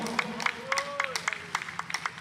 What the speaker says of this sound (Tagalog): Palakpakan natin ating mahal na Panginoon.